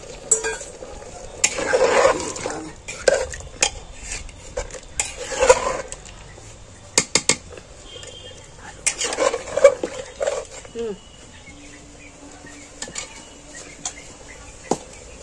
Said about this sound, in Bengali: এবার আমি যে মাংস মাখা জলটা, সেই জলটা আমি এর মধ্যে দিয়ে দিচ্ছি